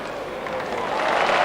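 Cricket crowd at the Melbourne Cricket Ground applauding a fielder's throw during a 1981/82 Pakistan vs West Indies one-day match, a broad steady wash of clapping and murmur that swells slightly toward the end.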